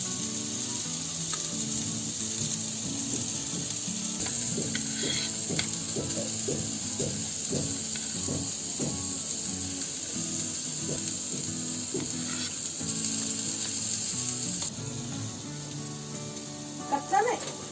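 Coated bombil (Bombay duck) fish fry in oil on a pan, giving a steady, moderately loud sizzle with scattered crackles and pops throughout.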